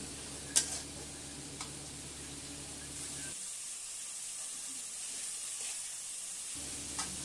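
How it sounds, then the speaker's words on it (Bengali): Spice masala for crab curry stir-frying in a pan, a faint steady sizzle and hiss with a couple of soft utensil clicks, quiet and continuous. "তো সমস্ত কিছুকে খুব ভালো করে মিক্সড করে নিতে হবে আর একটু কষাতে থাকতে হবে।"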